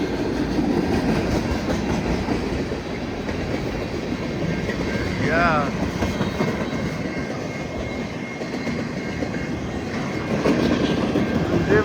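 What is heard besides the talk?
CN train passing a crossing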